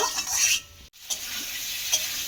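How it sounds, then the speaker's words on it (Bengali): Potatoes and spices fry in a pan for a vegetarian dal, soybean and pointed gourd dish. A moderate hissing sizzle runs with a brief pause near the middle and a few soft stirring clicks, and no one speaks. "আমি এইভাবে একটু আলুটাকে দিয়েও কষিয়ে নেব"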